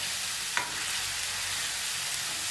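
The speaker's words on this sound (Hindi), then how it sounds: "अब मैं इसमें वो मिक्स कर रही हूँ। इसको हम अच्छे से मिक्स कर देंगे।" Chopped tomatoes are stirred into a frying arhar dal tadka, a loud continuous sizzle filling the pan with one brief scrape of the spoon near the start and no talk.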